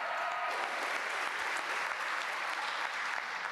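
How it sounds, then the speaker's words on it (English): Conference audience at a student-athlete mental health forum giving steady, even applause, a dense wash of clapping that holds at a constant level from start to finish. "We want to give them a really big round of applause."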